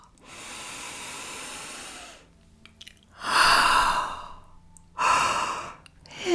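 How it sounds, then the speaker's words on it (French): Deep, slow breaths during a guided meditation: long, airy inhales and exhales in three drawn-out waves, close and fairly loud, with no talking. "Nous respirons profondément, car le souffle est un guide précieux sur le chemin."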